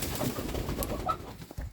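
Penned farm hens, startled, give a burst of close, agitated cooing and clucking calls that carry on fairly steadily through the short stretch, with no talking over them.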